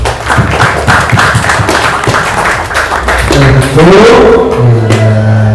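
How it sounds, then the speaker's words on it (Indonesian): An audience of students applauds at an open Islamic book-reading exam, a burst of clapping that gives way to overlapping cheers and drawn-out voices. "beri tepuk tangan semuanya"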